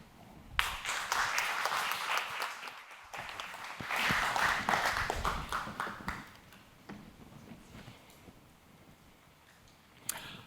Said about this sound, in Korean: 큰 박수로 맞이 부탁드리겠습니다.